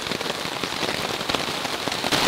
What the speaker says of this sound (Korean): 이 빗소리가 나 정말 어이가 없어서